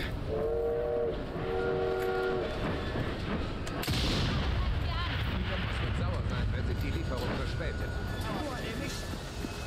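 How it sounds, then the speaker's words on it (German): A steam train pulling in within the game Assassin's Creed Syndicate, two horn blasts at the start followed by a rumbling, clattering rush of rail noise, with a voice talking over it. "Der Zug kommt."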